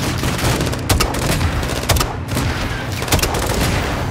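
Light machine gun fire in Modern Warfare 2 battle, dense rattling bursts with sharp repeated shots and booms over a constant roar of combat, loud and close throughout.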